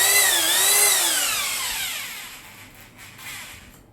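A Hitachi DH26PC hammer drill motor whines loudly at high speed, then its pitch slides steadily downward as it spins down and fades over a few seconds, close and alone.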